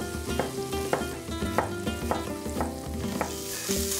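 Chorizo fries in a pan with a bright, close sizzle and regular soft stirring pulses about every half second, while faint background music plays and no one speaks.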